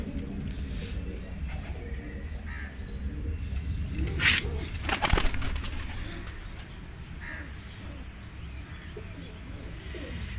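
Pigeons cooing in a rural outdoor setting where birds are being trapped, the soft low coos repeating steadily over a continuous murmur of background noise, with a louder burst of sound around the middle.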